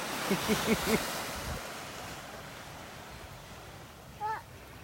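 Ocean waves wash steadily onto a beach in North Naples, Florida, a constant surf hiss with wind. Short voiced sounds come early and a brief call near the end.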